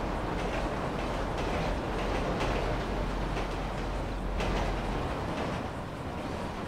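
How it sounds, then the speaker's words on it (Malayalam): A train in the GTA 5 video game rumbles past nearby as a loud, steady clattering roar that holds for several seconds and swells briefly near the end, with no talking. "ഓക്കെ ഈ ട്രെയിൻ പാസ് ചെയ്ത് പോയാലേ നമുക്ക് അപ്പുറത്തോട്ട് കടക്കാനൊക്കെ ഒത്തുള്ളൂ."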